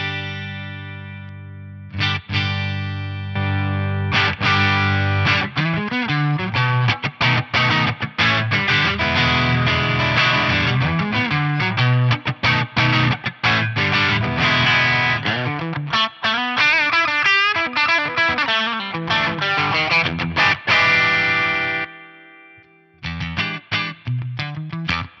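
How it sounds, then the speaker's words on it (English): Electric guitar plays through channel 1 of a Carvin Quad-X tube amp with a Tube Screamer pedal in front, giving continuous overdriven chords and riffs alone and up close, ending in a short pause and a few final strums. "I do have a tube screamer in line here, so let's hear that."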